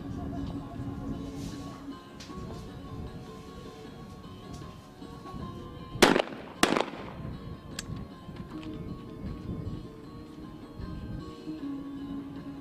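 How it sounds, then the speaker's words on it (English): A shotgun test-fires twice in quick succession during a women's skeet shooting final, two sharp loud reports standing out over a steady murmur of crowd and background noise. "Just one more finalist to test fire."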